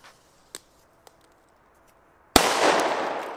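Firecrackers (D-Böller) outdoors: a few faint distant pops, then one sharp, loud bang followed by a sustained crackling, sizzling burst lasting about a second, with no one talking.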